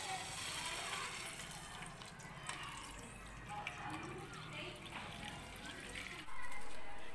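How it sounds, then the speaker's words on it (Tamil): Water streams into a cooking pot before basmati rice goes in, a steady splashing flow that runs throughout, with a louder gush near the end. "தண்ணி சேர்த்துக்கலாம்."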